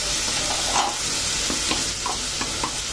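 Garlic added to a pan of browning onions, masala and water for a Bengali chicken curry with jackfruit seeds, giving a dense, steady, loud sizzle with a few soft stirring taps and no voices.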